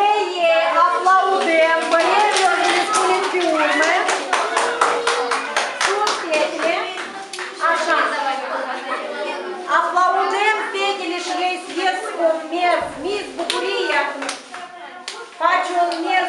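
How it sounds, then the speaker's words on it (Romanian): Children at a Christian summer camp clapping in a quick, steady burst of dense applause, joined by excited children's voices and chatter, close and loud throughout. "Așa, aplaudem!"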